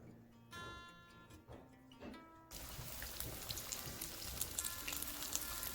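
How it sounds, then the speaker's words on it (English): Sesame chicken crackles and sizzles as it drops into hot oil, a loud steady frying hiss with scattered pops, after a few quiet clinks and taps. "I think this is really hot now, so we are going to start frying."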